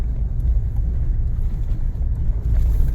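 Suzuki Jimny running in rear-wheel drive along a rocky mountain road, a steady low engine drone and rumble with wind buffeting the microphone, no voices.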